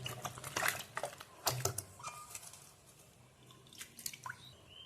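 Raw plantains being washed in water, giving soft splashes, drips and squishy handling noises in short bursts, fairly quiet and close, with no talking.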